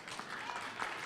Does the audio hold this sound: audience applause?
yes